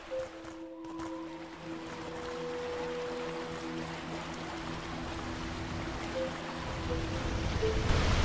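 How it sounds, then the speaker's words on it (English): Steady rushing waterfall in a video game fills the whole stretch, a constant broad wash with a low tonal hum running beneath it. "I love the sound of this waterfall."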